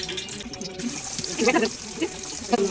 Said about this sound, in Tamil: கடாய் வச்சுருக்கேன், எண்ணெய் ஊற்ற போகிறேன். எண்ணெய் ஊற்றுறோம்.